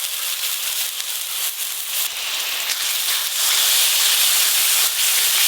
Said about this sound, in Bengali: সব কিছু একটু ভালো করে কষিয়ে নেব।